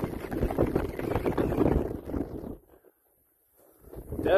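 Strong winter wind gusts roar steadily and close to the microphone, then drop to near silence for about a second before the blowing surges back.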